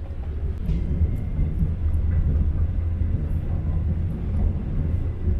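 Low, continuous rumble with steady rattling from inside a moving carriage of the KA Rajabasa train between Bandar Lampung and Palembang; no voices, just the constant drone of the ride.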